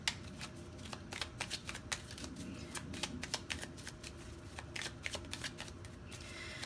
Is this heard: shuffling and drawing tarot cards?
yes